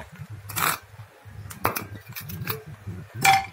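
Potato pieces dropping into a pot of boiled meat, heard as a few clanks and knocks against the metal with scraping in between, close by, under soft kitchen background and some talking.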